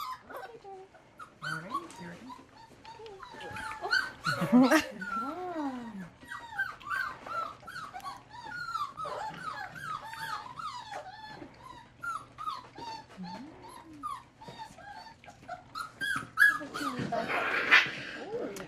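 Young service-dog puppies whimper, whine and yip while eating, a busy overlapping chorus of high thin cries with occasional louder yelps, close by and continuous.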